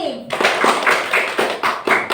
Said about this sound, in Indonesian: Tepuk tangan untuk kelompok Nabi.